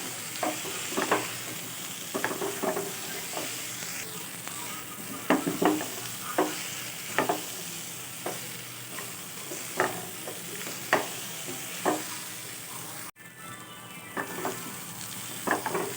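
Fried rice with potatoes and pointed gourd being stirred in a pan, a steady sizzle broken by repeated scraping strokes of the spatula, close and fairly loud with no talking.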